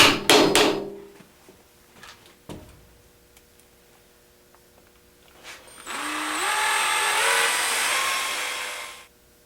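A hammer taps a wooden sled runner into a tight-fitting dado with a few sharp knocks near the start, then a loud power tool whines steadily for a few seconds.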